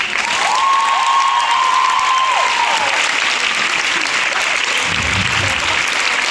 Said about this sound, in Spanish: por favor, aparte de un fuerte aplauso para Loreto, por favor, repetido por 3.